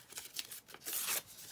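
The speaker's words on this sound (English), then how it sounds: "going to tear this section off where it's got the white core showing from the paper." Paper is torn from the pages of a book being made into a junk journal, a few short ripping strokes close by, ending in a longer, louder tear.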